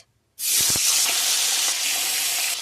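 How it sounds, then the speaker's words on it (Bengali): Pomfret fish is dropped into hot mustard oil. After a brief silence it bursts into a loud, sustained sizzle that keeps a steady hiss to the end. "তেল গরম হয়ে গেছে, দিয়ে দেবো মাছ।"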